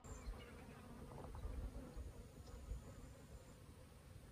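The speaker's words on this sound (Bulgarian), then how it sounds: "Не знам дали може да чуете жуженето, но тук има супер много пчелички, които събират прашец от тези цветя." Many bees collect pollen from flowers near a riverbank, making a steady, faint, continuous buzzing hum with no talking.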